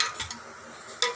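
A metal kadai, or wok, is set down on a stove with a short clatter of metal, then a quiet pause and a second sharp clank about a second later.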